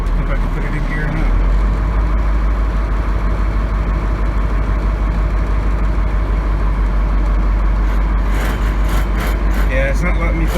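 1984 Ford F700 truck engine idling with a steady low diesel-like rumble close by, someone talking over it as the throttle is blipped slightly.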